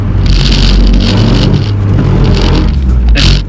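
A Mazda Miata revs loudly on a slippery surface while its wheels spin, a continuous close-up engine roar with surging pitch, hissing tyre scrub and a brief rise near the end.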